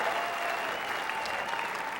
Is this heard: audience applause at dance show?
yes